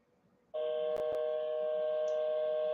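A Comdial Interchange phone system gives a steady tone that begins abruptly after a faint room hush, with two brief clicks early on, close and even, no talk.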